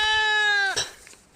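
A single goat gives a long, wavering bleat near the listener on a farm, clear and loud, followed by faint rustling and quiet background noise as it trails off.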